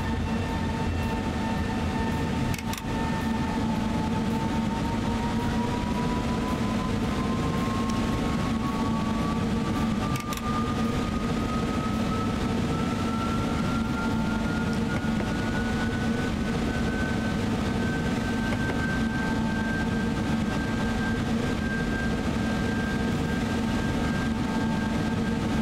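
A train moving in a railway simulator game, a steady loud rumble of wheels and motor with a slowly rising electric whine across the whole stretch, heard alone without talk.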